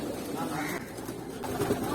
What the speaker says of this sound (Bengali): এই যে কবুতর ধরে ফেলছে